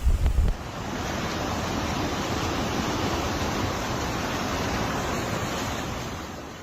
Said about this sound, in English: Hangtown Creek right here, raging hard.